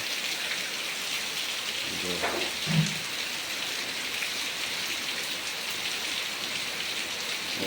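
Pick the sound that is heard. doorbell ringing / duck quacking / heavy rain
heavy rain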